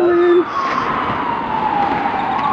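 A siren wails loudly on a street, a steady tone that drops in pitch after a brief higher whoop at the start, an emergency vehicle passing nearby.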